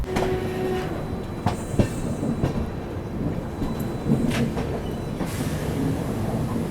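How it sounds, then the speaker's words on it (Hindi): A Duronto Express train rolls into Rani Kamlapati station, a steady heavy rumble of wheels on track with intermittent clanks and rail clicks heard from inside the carriage. "और अभी देखो रानी कमलापति रेलवे स्टेशन एंटर कर रही है अपनी दुरंतो"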